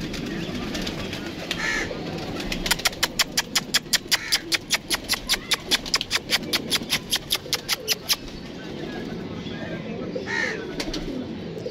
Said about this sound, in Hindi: ये देखें जी दोस्तों कबूतर आया जी